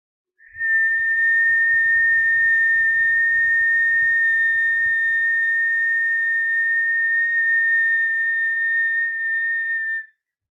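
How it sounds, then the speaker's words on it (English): A high, pure whistling tone from a breathing practice in a kundalini yoga session holds steady for about ten seconds, loud and close, with faint low breath noise beneath it at first. "Feel the high vibrational sound of that whistle or this breath."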